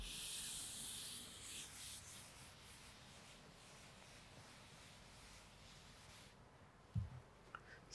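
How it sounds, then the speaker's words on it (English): Faint, steady rubbing as chalk or marker writing is wiped off a board during a coordinate geometry lesson, a soft scratchy swish that fades into near silence, with a couple of small knocks near the end. "So I am rubbing till here"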